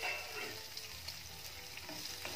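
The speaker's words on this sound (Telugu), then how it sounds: "ఇవన్నీ ఒకసారి కలిపి లైట్ బ్రౌన్ కలర్ వచ్చేంత వరకు వేగనివ్వండి" Chopped medium onion fries with green chilies in a pan for raw papaya curry, giving a continuous close sizzle with scraping stir noises mixed in.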